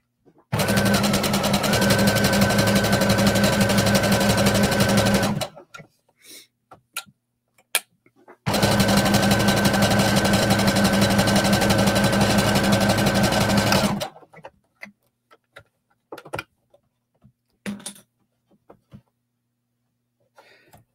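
Sewing machine stitching a seam across fabric for a tunic, running steadily in two long close bursts of about five seconds each, separated and followed by quiet handling clicks.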